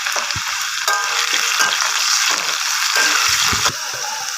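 Potato pieces fry in hot oil with whole garam masala, giving a loud, steady sizzle and crackle, broken by a few clinks and scrapes of stirring.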